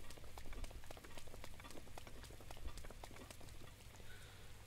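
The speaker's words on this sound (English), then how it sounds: "we'll just have to wait for the rain to stop" Rain pours in Breath of the Wild, a constant close patter of fine drops ticking on surfaces, even and unbroken with no voices over it.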